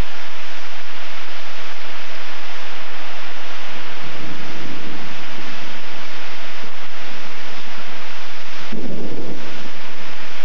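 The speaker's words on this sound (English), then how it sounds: "Check out this rain." Heavy rain pours down on a back porch in a steady, loud roar of dense hiss, with brief deeper rumbles swelling twice; no voices are heard over the downpour.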